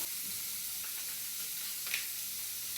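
Sausage sizzles in an electric frying pan, a soft steady hiss of frying fat with faint taps and stirring, quiet and continuous with no talk.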